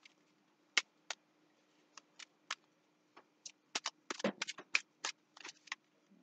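Tarot cards are shuffled in a series of sharp riffling bursts, sparse at first and then quicker and denser, close and fairly quiet.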